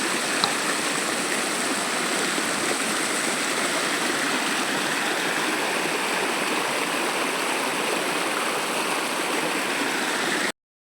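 A stream rushes steadily with a full, even roar of flowing water that holds at the same level throughout, with no voices.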